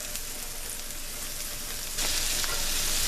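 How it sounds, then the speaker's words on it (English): Butter sizzles with vegetables in a cast iron pan, a continuous close frying hiss that grows suddenly louder and brighter partway through as more butter goes in, with no voices. "Let's get some more butter in there."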